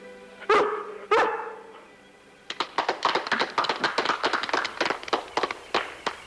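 Lassie the dog gives two sharp, close barks, then a quick run of light tapping and clatter follows.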